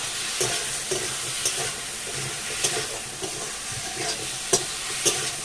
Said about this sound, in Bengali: নুনটা কচুর সাথে আমি নেড়ে নেবো।